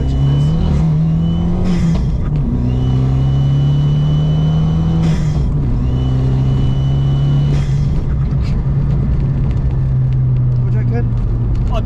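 An Alfa Mito Cloverleaf or Abarth 500 engine pulls hard from inside the cabin, rising drone climbing through the gears with brief dips at each shift, loud and steady under occasional talk.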